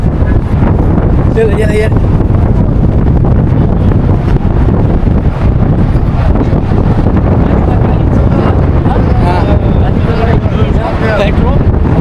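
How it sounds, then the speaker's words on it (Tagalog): Strong wind roars and buffets the microphone loud and constantly outdoors, and voices speak intermittently beneath the gusts. "Tapi lakas yung hangin."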